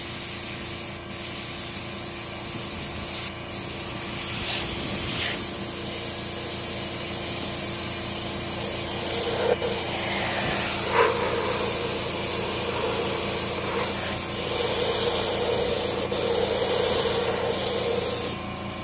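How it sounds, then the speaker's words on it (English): An airbrush sprays Createx paint used as a dye onto hand-tooled leather, producing a loud, continuous close hiss of air with a couple of brief cutoffs near the start. "Createx airbrush paints, and they will work as a leather dye."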